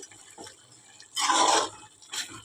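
A spoon stirs chicken curry in an open cooking pot, giving a soft wet scraping burst in the middle and a shorter one near the end, close by and alone.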